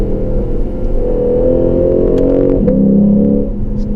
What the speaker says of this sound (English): I'm gonna downshift right now with the windows up into second